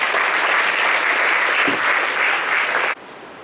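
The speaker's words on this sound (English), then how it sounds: "Please give a big round of applause." An audience at a college engineering ceremony at Guindy claps in steady, dense applause that carries on evenly and then stops abruptly near the end.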